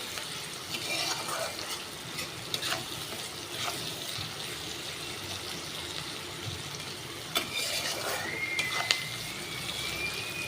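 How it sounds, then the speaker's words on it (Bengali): Onions frying with salt in oil until reddish, a steady moderate sizzle with occasional stirring scrapes, close by, plus a brief high whistling tone near the end and no talking. "তাহলে পেঁয়াজটা তাড়াতাড়ি সিদ্ধ হয়ে যাবে। একটু লাল করে ভেজে নেব।"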